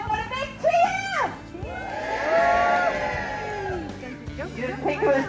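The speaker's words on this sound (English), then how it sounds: "So if we want him to jump in, we want a big cheer!" An audience at a sea lion show in a safari park cheers, whoops and shouts, children's voices among them, swelling into a sustained roar before fading, with a presenter's voice heard at the start and end.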